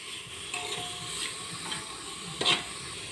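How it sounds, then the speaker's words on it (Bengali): Vegetables frying in a pan while chicken vegetable soup is being made, seasoned with salt and black pepper, giving a soft steady sizzle with occasional stirring scrapes and a brief clatter near the end. "সমস্ত সবজিগুলো দেওয়ার পর আবারও কিছুক্ষণ আমি ভেজে নেব।"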